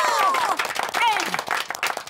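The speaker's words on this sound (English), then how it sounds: "A round of applause for" A round of applause in the animated children's phonics show Alphablocks: lively clapping mixed with cheerful cartoon voices and whooping, bright and close, swelling and dipping over a couple of seconds.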